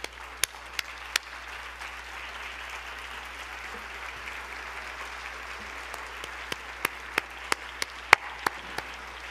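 An audience at a Dallas ISD oratory competition applauds counselors, principals and family members, soft diffuse clapping from a crowd with a few sharp, close individual claps standing out, with no talk over it.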